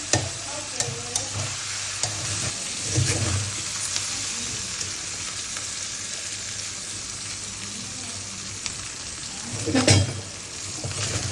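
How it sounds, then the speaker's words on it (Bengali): Fish frying in a pan for a fish mash gives a faint, steady sizzle, with occasional scrapes and clinks of stirring and a brief louder burst near the end. "দেখো আমার ভাজা হয়ে গেছে"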